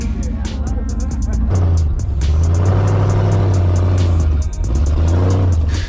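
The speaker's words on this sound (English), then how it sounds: "This Jeep buggy makes really quick work of this obstacle." A Jeep buggy's engine revs hard while the off-road rig crawls over a rock obstacle, a loud, sustained drone that climbs and holds with a brief dip near the end, close to the microphone.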